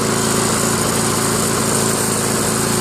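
A 1999 Yard Machines by MTD self-propelled lawn mower engine runs loud and close, a constant high-pitched buzzing drone without letup.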